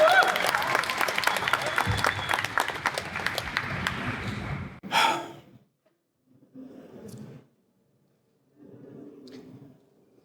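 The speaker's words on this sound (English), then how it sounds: "So one more round of applause for Michael." Audience applause fills a DEF CON main stage hall for a talk on eradicating hepatitis C, loud and dense for about five seconds before cutting off, followed by scattered quieter bursts of clapping and crowd noise.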